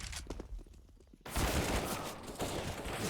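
Rifle fire in a competitive Counter-Strike match, scattered distant shots giving way to a sudden loud, sustained volley of rapid gunfire that crackles on to the end.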